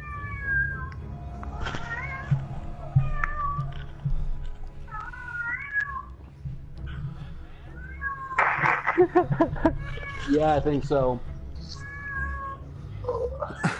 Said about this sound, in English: What is that cat crying about? He wants to go outside.